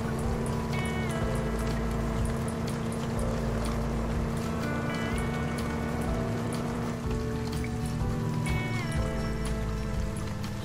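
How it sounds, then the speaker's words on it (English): Steady rain pours down in the video game Denizen Life Simulator, a dense, continuous hiss of drops on surfaces that stays even and loud from start to finish, with faint chimes drifting in the background. "the rain is keeping on going"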